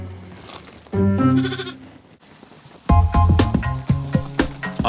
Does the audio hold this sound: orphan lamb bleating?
yes